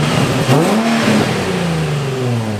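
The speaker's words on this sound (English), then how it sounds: "Thanks to Brandon and Ryan, I have a stock exhaust. Let's see how it sounds" A Nissan G35 engine with stock exhaust revs loudly nearby, climbing in pitch, then settling into a lower, steady drone.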